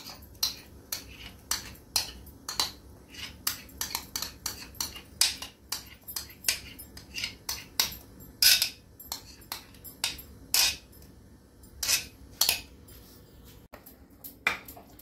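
Grated carrot paste for carrot sandesh being stirred in a pan, with a long run of sharp, irregular scraping clicks and taps from the utensil against the metal, close and moderately loud, with no talking.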